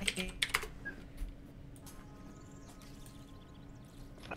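Rapid keystrokes on a computer keyboard during an online MMORPG session, a brief loud flurry of clicks at the start, then a few scattered taps over low room hum.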